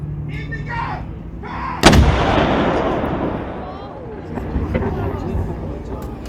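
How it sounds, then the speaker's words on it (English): A ceremonial cannon fires once in Malta, a single loud, sharp boom that rolls into a long, fading rumble and echo. An announcer's voice speaks before and after it. "we hope that the gun was loud enough and that you've enjoyed today's firing"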